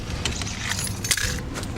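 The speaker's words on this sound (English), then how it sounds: "there goes the keys" Car keys for a 1994 Buick Roadmaster LT1 jangle and rattle against a hard surface as they fall, close up, over steady road and engine noise from the car.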